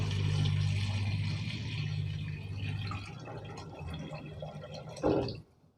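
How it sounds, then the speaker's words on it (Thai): Water is poured into a pot of fried pork legs, a steady close splashing fill that fades over several seconds and ends with a brief clunk. "แล้วก็เติมน้ำครับให้ท่วมขาหมูครับ"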